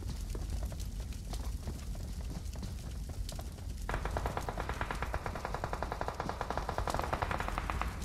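Rapid automatic gunfire from a battle royale video game during an esports match, dense continuous bursts with a faster rattling stretch in the second half, under a steady noisy background.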